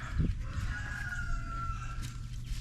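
Chickens cluck and call nearby, one drawn-out crow-like call rising over a low rumbling background.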